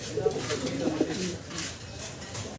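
A pair of Russian fighter pigeons coo in low, throaty bursts close by early on, then fade into a softer, muffled background.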